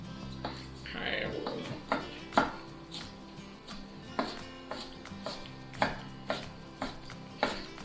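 A knife chops food finely on a cutting board for meatloaf tacos, about a dozen sharp, close knocks at a loose, uneven pace while someone talks.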